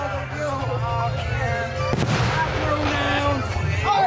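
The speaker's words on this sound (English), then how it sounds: "Now we shoot it up all the fireworks." Fireworks go off outdoors under a night sky, with a sharp loud crack near the middle among steady crackling bursts, while people talk over them.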